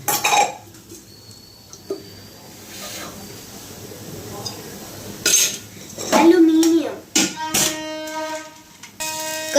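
A metal kadhai is set down on the stove with a few sharp clanks, the last ones ringing briefly, after a stretch of quieter kitchen handling, with some talk in the room.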